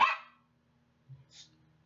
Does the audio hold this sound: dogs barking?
yes